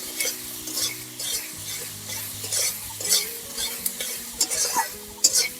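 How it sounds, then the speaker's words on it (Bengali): Ridge gourd stir-fried with spices and salt in a pan gives a bright, steady close sizzle, broken by frequent spatula scrapes and light metallic taps in a loose rhythm, with no speech. "এবার সবগুলো একসাথে খুব ভালো করে কষিয়ে নেব"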